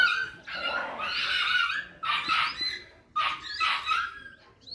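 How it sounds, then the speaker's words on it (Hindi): Dogs scuffling and barking outdoors in a wooded area, with high yelps and whimpering snarls in three bursts separated by brief pauses, moderately distant and fairly faint. "कुत्ते लड़ पड़े हैं।"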